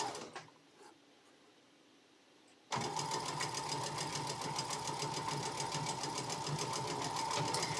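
A sewing machine stitching a Christmas table runner starts abruptly after a quiet stretch, then runs steadily and loudly with a fast, even mechanical rhythm for the rest of the clip.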